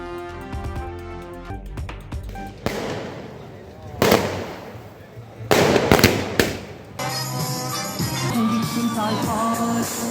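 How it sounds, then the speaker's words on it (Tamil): Fans burst firecrackers in front of cinemas in Tamil Nadu to celebrate an Ajith film release, heard as loud, sharp bursts and crackling clusters around 4 and 6 seconds, mixed with crowd noise, cheering and music. "அஜித்துக்கு பேனருக்கு சூடம் காட்டியும் திரையரங்குகள் முன்பு பட்டாசு வெடித்தும் உற்சாக கொண்டாட்டம்."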